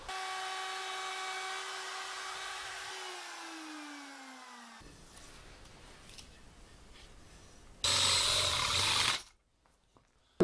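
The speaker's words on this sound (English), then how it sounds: "just drill the access hole for the truss rod before we get the fretboard on" A power tool works on a guitar headstock of flame maple and zebrano, drilling the truss rod access hole: a tonal motor whine winds down in pitch, then a quieter grinding stretch and a brief loud burst before silence.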